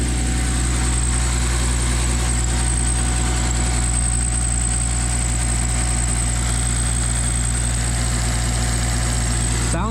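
A car engine fitted with new 1000cc fuel injectors idles steadily and a little high, a close, continuous low rumble with a faint buzzing vibration and no revving throughout.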